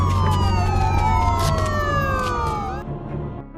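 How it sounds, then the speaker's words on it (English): A wailing police siren sweeps up and down loudly over a low engine rumble, then cuts off near the end. "suddenly a police siren was heard and the sound was getting closer and closer"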